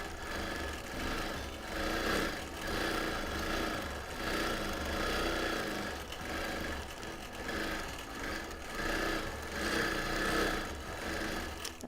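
Sewing machine stitching through a linen blend sampler quilt, a steady close motor whir with rhythmic needle chatter running continuously, swelling slightly in passes, with no talk.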